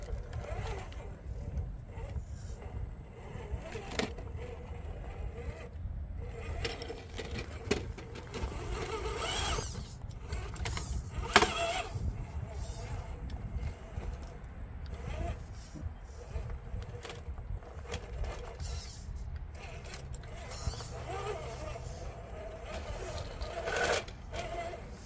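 An Rc4wd Trail Finder 2 RC crawler with red soft springs grinds up rocks, its small motor whirring steadily close by with scattered clicks, scrapes and knocks as it climbs.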